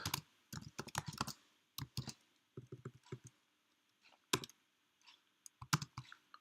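Quiet typing on a computer keyboard while writing HTML code: irregular bursts of key clicks with short pauses between runs, close and alone without any voice.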